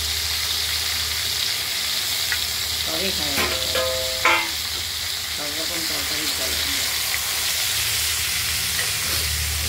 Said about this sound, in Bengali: এগুলোকে কড়াইতে তেল গরম করে ঝিঙেগুলো দিয়ে দিচ্ছি